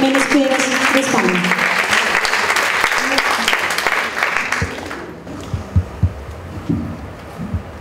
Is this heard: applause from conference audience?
yes